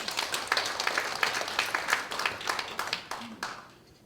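Audience applause for a lecturer at a university lecture hall, a medium group clapping in dense uneven bursts, close and fairly loud, tapering off toward the end.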